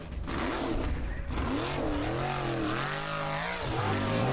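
A Formula Offroad car at an Icelandic competition in Akureyri, its engine revving loudly with rising and falling pitch sweeps as the driver works the throttle on the track, heard near and continuous.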